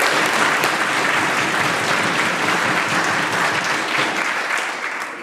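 Members of the British Columbia legislature applaud in their chamber. The clapping is loud and dense, holds steady throughout and tapers off slightly at the end.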